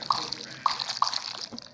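Bubbling slime sounds from a slime game app on a phone, three distinct bright bloops spaced about half a second apart over a soft watery fizz.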